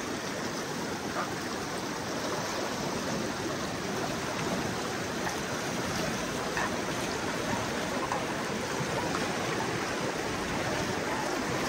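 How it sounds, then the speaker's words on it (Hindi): Strong mountain stream water rushes steadily in a snowy village near Siachen, a dense, constant hiss of flowing water filling the whole scene with no breaks. "पानी का बहाव भी बहुत ज़्यादा है"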